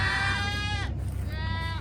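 Goats on a farm, out grazing on weeds in the morning, bleat loudly and close by. Two long, wavering calls are separated by a short pause, over a steady low background hum.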